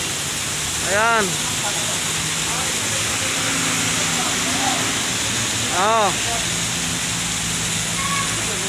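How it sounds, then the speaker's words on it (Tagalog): Heavy rain pours in a loud, steady hiss that fills the scene, while a person gives a few short exclamations over it. "Lakas ng ulan, oh."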